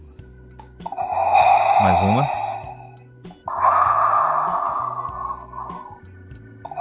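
A Darth Vader Funko Pop figure plays its electronic breathing sound, two slow, mechanical inhale and exhale cycles at close range, with a steady electronic hum underneath and someone speaking briefly.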